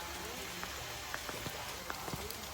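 Dense heavy rain falls steadily on the Mau Ping ancient trail in the countryside, a constant close hiss with scattered sharper drips and taps from drops hitting surfaces nearby.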